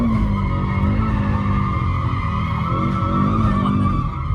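An Audi all-wheel-drive drift car skids through a transition, its tires squealing loud and sustained with a wavering pitch over a droning engine, close up and with no talk.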